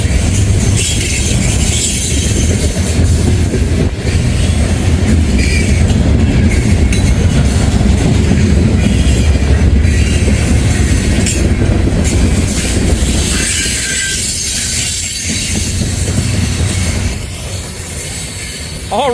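A train rolls by on the C&O line, loud and close, a continuous heavy rumble with rhythmic clacking of wheels on rail joints and an occasional metallic squeal.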